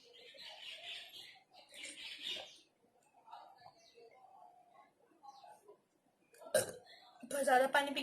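A girl belches loudly twice near the end after drinking lots of water for a water-drinking challenge, following earlier stretches of her speaking and quieter sounds.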